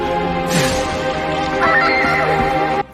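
Horses neigh and whinny loudly and close by, a long harmonic whinny rising over faint hoof clip-clop as Scythian riders set off on horseback.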